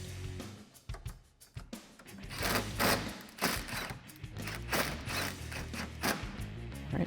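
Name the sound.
ratchet tightening factory 8mm bolt on Mustang headlight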